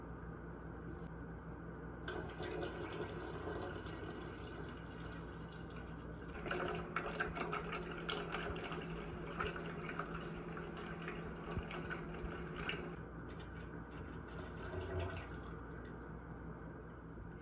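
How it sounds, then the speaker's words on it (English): A water and lye mixture is poured slowly into oil while making tallow soap, giving a steady, soft trickling and dripping against a constant background hum. "you want to slowly pour the water and lye mixture into the oil"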